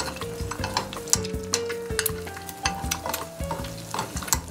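Pasta fries in an oil bath in a pan, with a loud steady sizzle and crackle, plus stirring scrapes and clinks of utensils against the cookware, close by and continuous.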